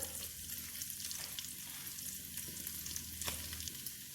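Olive oil goes into a hot pan already holding achiote oil for Puerto Rican yellow rice, making a soft, continuous sizzle with a single sharp clack near the end and no voices.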